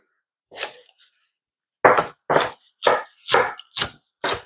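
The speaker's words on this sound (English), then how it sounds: "I'm gonna cut the spring onion up" A knife chopping spring onion on a board for coconut dumplings, one sharp cut followed by a steady run of six crisp, close chops at an even rhythm with nothing else heard.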